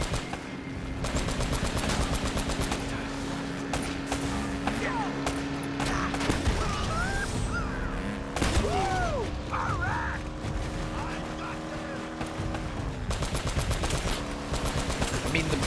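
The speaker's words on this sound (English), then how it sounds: "you can take them out with the machine gun" Rapid machine gun bursts in Uncharted: Drake's Fortune during a jeep chase against enemies on bikes, dense rattling fire running through the whole stretch with engine drone and sharp whistling tones, someone talking over it.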